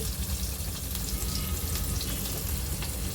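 Garlic fries in hot oil with mustard seeds, cumin and asafoetida, a dense, steady sizzle and crackle that fills the whole moment without pause, close and fairly loud.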